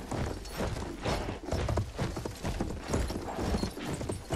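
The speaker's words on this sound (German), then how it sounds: "Kann ich eigentlich gemütlich reiten, ne?" Horse hooves galloping in a steady, rapid clip-clop rhythm as a rider travels on horseback in the World War I shooter game Battlefield 1, fairly close and continuous for several seconds with no talk over it.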